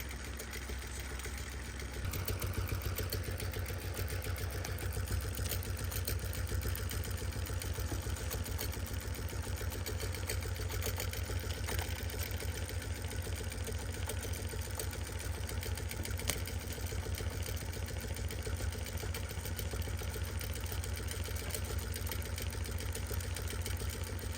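A longarm quilting machine stitching binding onto a quilt, a steady, fast mechanical whirring hum that runs continuously and evenly throughout, close and alone without talk.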